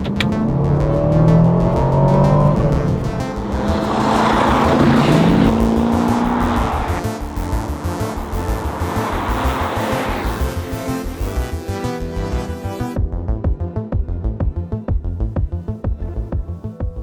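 An Aston Martin DBX 707 SUV drives by with a deep engine roar that builds and fades, followed by a steady rhythmic rumble as it moves on, loud and close.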